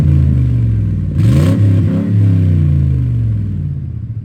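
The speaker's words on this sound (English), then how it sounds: "We're bouncing off the rev limiter." A former New York City livery Lincoln Town Car taxi with an exhaust leak revs hard to its limiter. The loud, close, raspy engine drone surges and bounces for a couple of seconds, then settles back to a heavy idle rumble.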